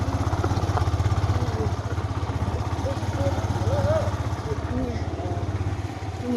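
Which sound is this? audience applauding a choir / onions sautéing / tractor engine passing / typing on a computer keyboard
tractor engine passing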